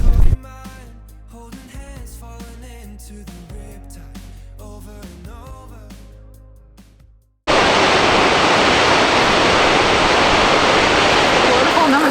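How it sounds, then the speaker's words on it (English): Skogafoss waterfall in Iceland roars as a loud, dense, continuous rush of falling water in the final few seconds, after a stretch of music that cuts out abruptly. "Waterfall number 2 for the day is one I can actually pronounce. So this is Skogafoss."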